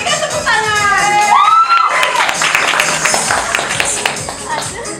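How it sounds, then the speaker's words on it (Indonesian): Audience applause and cheering for a finalist at a pageant-style competition, a broad crowd wash of clapping and shouts running throughout with voices and a rising musical tone layered over the start. "Berikan tepuk tangan."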